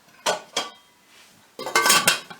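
A lid set onto a cooking pot of kale over a high flame: two sharp metallic clanks close together, a faint pause, then a longer rattling, scraping burst of metal as it settles, close and loud with no talk.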